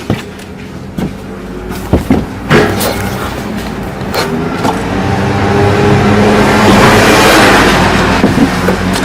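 A Volkswagen Polo 4 engine runs close by with an odd noise, irregular knocks and clunks at first, then a rising, louder steady engine roar with rattling texture.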